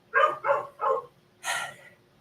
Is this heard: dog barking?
yes